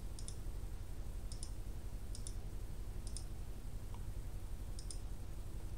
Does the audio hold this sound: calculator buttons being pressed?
yes